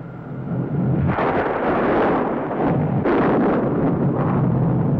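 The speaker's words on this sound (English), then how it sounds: "Looks like the thunder and lightning's on their ball team." Rumbling thunder sound effect from a 1954 television space adventure, a loud sustained roar with rolling surges and crackling peaks throughout, no talking.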